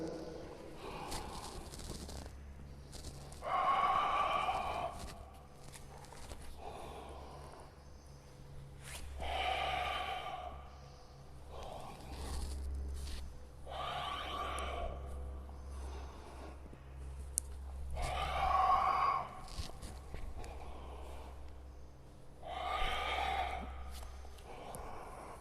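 Deep, rhythmic breathing during rounds of Surya Namaskar yoga, with long audible inhales and exhales surging every few seconds, close and fairly quiet, with occasional soft snort-like exhalations and no talk.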